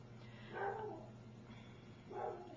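Two muffled barks from a dog in another room, spaced about a second and a half apart, faint against a steady background hum.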